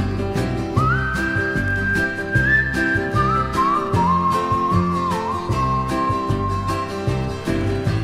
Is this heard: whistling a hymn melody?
yes